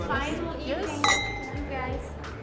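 Glasses clink in a toast at a two-star Michelin fine dining restaurant in Funchal, Madeira, with one bright ringing clink in the middle amid close voices.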